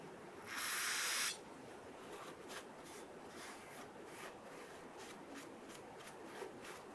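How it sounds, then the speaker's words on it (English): Spray solvent hisses in one steady burst of under a second onto the intake manifold ports of a 1994-2004 Ford Mustang 3.8, followed by quiet, soft rubbing and wiping strokes. "Going to use some spray solvent and just work your way around each port."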